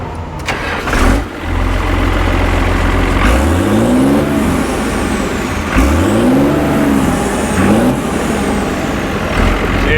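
A Challenger tractor engine cranks and catches, settles into a deep rumbling idle, then gives a couple of rising revs that sweep up and fall back, loud and close.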